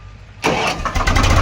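A tractor engine cranks and then catches with a sudden loud roar, settling into a rough, rumbling idle that sits close and heavy, with no talking.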